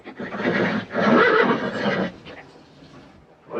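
A horse whinnies loudly and close, one long quavering neigh that fades out, followed by a quieter snort at the end.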